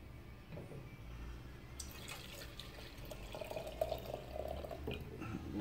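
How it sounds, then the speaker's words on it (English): Acetone pours into a jar with a faint, steady liquid trickle, set against a low background hum. The sound is quiet and close, and no one speaks. "a little bit of acetone, which I'm going to pour into this jar that I've got here"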